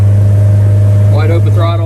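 A Honda BF75D/BF90D outboard motor at wide open throttle runs loud and steady, its drone roughened by an irregular sputter as if missing a cylinder, while a voice speaks briefly over it.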